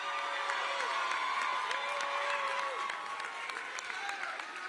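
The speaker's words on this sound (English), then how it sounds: "Let's give them a round of applause" Graduates at an engineering and innovation school ceremony receive a sustained round of applause with cheering and whoops from the crowd, steady dense clapping heard from some distance, with a few tonal whistles or calls rising above it.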